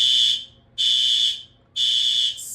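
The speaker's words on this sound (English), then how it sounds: "I knew my apartment was going to test the fire alarms at some point" An apartment building fire alarm under test sounds in piercing, evenly spaced high electronic beeps, three long blasts with brief gaps, loud and close.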